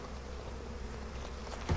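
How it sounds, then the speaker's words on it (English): Buzzing swarm of bees hurled by an alchemist in the video game Massive Chalice, a steady insect drone filling the short stretch with a sharper burst near the end, no talking. "that alchemist has just thrown the bees"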